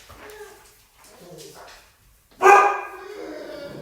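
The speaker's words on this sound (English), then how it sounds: "There go my dogs." Pet dogs at home let loose a sudden, loud burst of barking that fades into yips and whimpers, following a stretch of faint, quiet talking.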